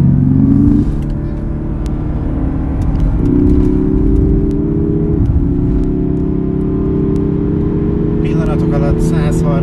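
A 2016 Lexus IS300h rear-wheel-drive hybrid accelerates hard, a loud steady engine drone with rising pitch that steps up through gear changes, heard from inside the car with some brief clicks near the end.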